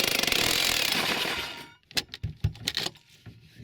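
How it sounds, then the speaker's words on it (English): A power drill bores a hole through the plywood floor of a Renault Trafic campervan: a dense grinding whine for about two seconds, then stops, followed by a few sharp knocks and scrapes. "so I have to start drilling"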